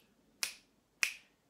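Two sharp, crisp claps or snaps spaced about half a second apart, marking the first beat of a counted rhythm for a children's song, each a quick bright transient with a short decay in a quiet room.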